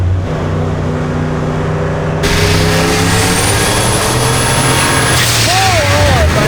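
A pickup truck's engine revs hard as it accelerates to pass, a loud, rising roar from inside the cab that holds throughout.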